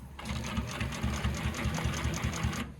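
A Consew P2339RBLH-18-1 double-needle long-arm sewing machine stitches at a fast, even pace, giving a close, steady mechanical chatter that runs for a couple of seconds and then stops.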